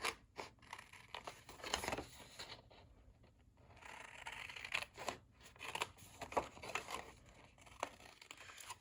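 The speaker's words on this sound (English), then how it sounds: "I'm going to just cut this piece here." Scissors snip through a piece of card along marked lines while a first handmade greeting card is being assembled, a close, quiet series of crisp cuts and paper rustles in an uneven rhythm, with no talk.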